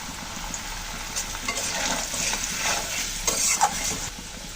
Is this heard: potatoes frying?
yes